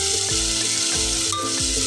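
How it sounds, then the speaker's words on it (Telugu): Egg pulusu masala base of onion paste fries in hot oil with a steady, bright sizzle. A spoon scrapes and stirs through it in repeated strokes, close up, with no voices. "ఆయిల్ అంతా బయటకు వచ్చే వరకు మనం ఫ్రై చేసుకోవాలి."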